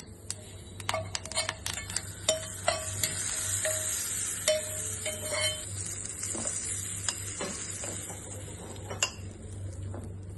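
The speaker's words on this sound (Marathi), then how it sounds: "आता ही फोडणी तयार झाली. आता आपण चटणीवर ओतूया." Hot tempering with browned urad dal is poured over fresh coconut chutney, giving a steady sizzle with quick spoon clinks and scraping taps against a steel bowl, close up and without talk.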